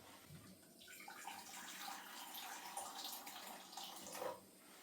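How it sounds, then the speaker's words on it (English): Boiling water pours steadily into a pan on a hob for several seconds, a close hissing splash that swells and then cuts off near the end. "Put some boiling water in the pan."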